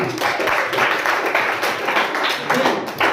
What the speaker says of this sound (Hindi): तालियां बजा लो अपने लिए।